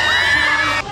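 Crowd at a One Kapamilya Go 2013 concert screaming and shrieking as performers come on stage, a loud, high-pitched sustained roar that cuts off abruptly within a second.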